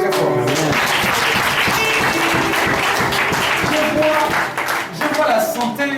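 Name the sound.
congregation cheering and applauding God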